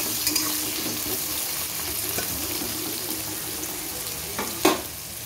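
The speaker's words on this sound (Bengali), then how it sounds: "পেঁয়াজটা দিয়ে দিচ্ছি। পেঁয়াজটা একটু ভাজা ভাজা হোক" Onion frying in a pan as the base for a meat curry makes a steady, even sizzle throughout, broken by a few stirring scrapes and a sharper clank near the end, with no talk.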